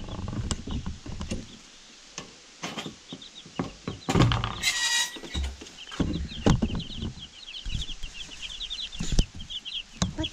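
Young meat-bird chicks near a heater cheep in quick high peeps, scattered across the clip, with close handling thumps and rustling from a bin nearby.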